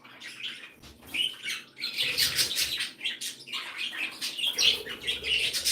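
Pet Sierra parakeets warble and chirp in a bird room, a busy overlapping stream of bright twittering calls with occasional squawks, fairly close and continuous.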